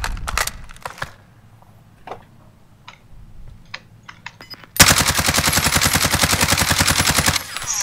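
M19 Akimbo pistols fire in Call of Duty Warzone. A few scattered single shots come first, then a long, loud, rapid stream of gunfire that runs steady for about three seconds.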